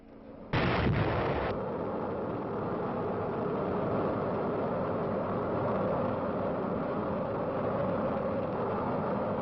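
An Army missile launches with a sudden loud blast, then a sustained roaring rush of rocket exhaust that continues steadily for several seconds.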